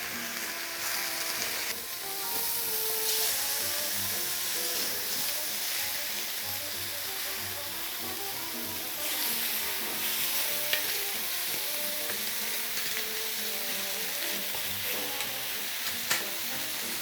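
LA galbi beef ribs sear on a grill pan until golden with grill marks, giving a steady, close sizzle that runs throughout, with a few faint clinks over it.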